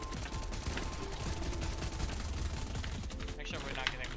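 Automatic gunfire sprays in rapid bursts during a competitive duo battle royale shooter match. The loud clatter is dense and continuous, with players talking over it.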